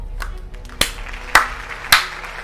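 Hand claps ring out sharply, three to four distinct spaced claps at a steady slow pace, close and loud over a faint background hum with no voices.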